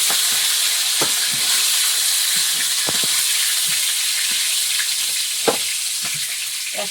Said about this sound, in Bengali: মাছের মাছগুলো সব ভেজে নিলাম।